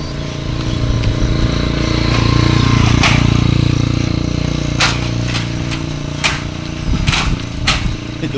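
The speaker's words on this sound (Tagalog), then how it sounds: "Eh, dumaan ang motor." A motorcycle on a roadside during an early-morning jog swells to a loud, near pass and then fades. A few sharp clicks and knocks sound over the engine drone.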